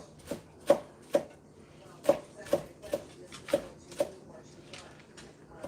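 Fresh Thai basil chopped with a knife on a cutting board, a dozen or so crisp, close knocks at an uneven, unhurried pace, with faint low sounds between strikes.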